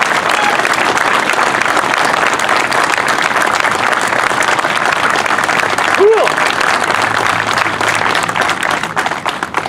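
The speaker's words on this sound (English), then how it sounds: "So let's give them a round of applause for all of our military." Crowd applause at a veterans memorial plaza monument unveiling, honoring the military: loud, continuous clapping from many people filling the whole stretch, with voices mixed in.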